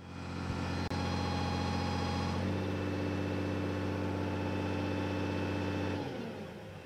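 The Mercedes diesel engine on a Case backhoe runs at a steady loud drone, then throttles up around mid-clip to a higher, stronger pitch before easing back down near the end, with no voices over it.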